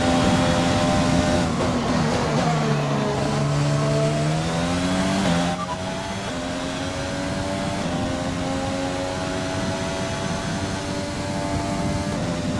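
F1 cars in the F1 2020 video game at the Austrian Grand Prix scream at high revs, the engine pitch dipping through gear changes and then rising steadily, loud and continuous.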